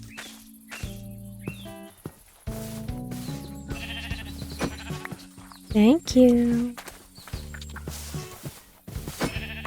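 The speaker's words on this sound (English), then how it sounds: "I see some more sheep." A Minecraft sheep bleats in two or three wavering cries amid chiming game tones and footstep clicks, with a person talking briefly nearby.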